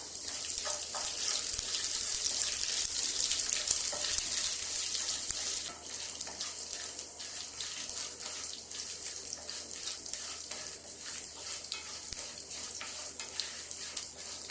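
Peppercorns, dried chillies and curry leaves tempering in hot oil in a pan for fruit curd rice: a bright, crackling sizzle that is strongest at first, then settles into a softer, steady fizz.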